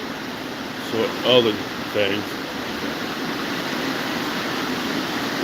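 A water fountain flows inside the Glenbrook mall, giving a steady, even rush of splashing water that fills the space. A few brief spoken words rise over it early on.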